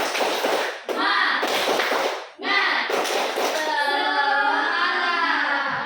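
A group in a classroom claps a rhythmic spirit clap during an ice-breaking activity, with bursts of clapping alongside children's voices chanting together.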